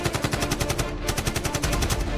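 Rapid, sustained automatic gunfire rings out as a loud, continuous burst of evenly spaced shots, like machine-gun fire in a jungle ambush, with no voices over it.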